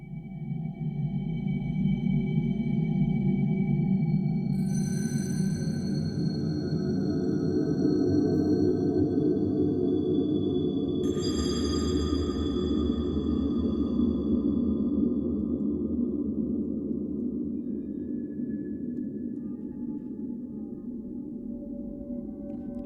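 A Reaktor Dron-E ensemble drones continuously with a loud, dense low hum as bright sampled tones swell in and shift, jumping between samples 87 and 103 into eerie, whale-like tonal textures with no voices.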